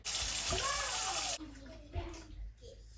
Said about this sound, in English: We're going to measure our water into this container, and we need 950.